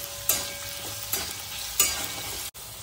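Softened potatoes salted and sautéed in a pan for sabudana khichdi give a low constant sizzle, punctuated by three distinct spatula scrapes roughly every second, close and clear.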